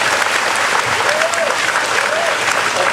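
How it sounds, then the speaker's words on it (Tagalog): A crowd at a distributors' orientation bursts into loud, sustained applause, thick and steady throughout, with a faint voice rising briefly beneath it. "Palakpak naman po rin"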